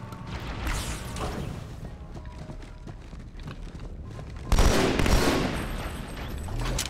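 Rapid automatic SMG fire in Halo 2 on Cairo Station, sustained bursts rattling throughout with a louder, denser burst surging in near the end.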